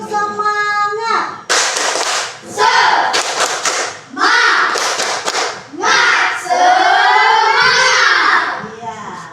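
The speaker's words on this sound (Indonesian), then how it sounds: "Ayo, tepuk semangat." A standing class of fourth-grade children performs a rhythmic clapping chant in a classroom, with loud bursts of clapping alternating with shouted call-and-response voices, close and energetic throughout.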